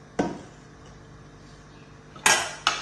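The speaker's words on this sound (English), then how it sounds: "Then you cover." A metal lid put onto a pressure pot, one sharp clank, then a quiet pause, then two more ringing metallic clatters close by.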